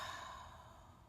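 One slow, soft exhale during a guided meditation, a breathy rush that fades gradually over about a second, heard alone and close.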